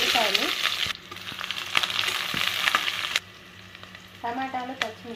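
Onions and mustard seeds sizzling in oil for a chicken curry, a bright crackling fry with stirring, cutting out briefly before resuming, fairly close.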